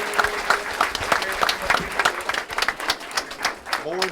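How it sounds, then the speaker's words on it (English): A round of applause at a county board of education meeting, a moderate crowd clapping in an uneven patter of distinct hand claps, some voices audible beneath, fairly close and steady. "How about a round of applause?"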